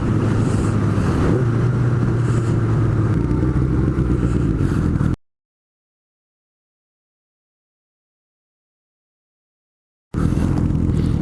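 A Honda Nighthawk motorcycle rides along on a group ride, its engine droning steadily with wind rush, then cutting to silence before the same steady roar returns.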